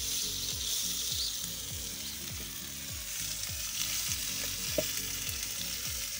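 Chicken sears in a hot pan with a small amount of oil, giving a loud, steady sizzle throughout with faint repeated scraping ticks underneath.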